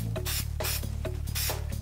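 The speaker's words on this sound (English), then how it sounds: "We're gonna use some Super 77 spray because the hot glue is kind of a nightmare." Super 77 spray adhesive sprayed in repeated short hissing bursts, about eight quick pulses in a steady rhythm, close and fairly quiet.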